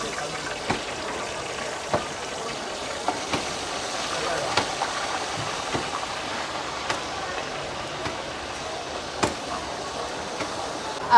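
Onion-garlic paste frying in oil in a pan, a steady hiss and sizzle with sharp ticks and pops scattered throughout, close and fairly loud.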